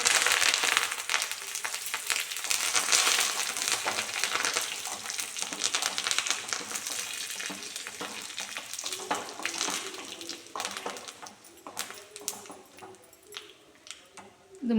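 Curry leaves and dried red chillies sizzle and crackle in hot oil for a cucumber pachadi, a steady close hiss with sharp pops growing more frequent toward the end.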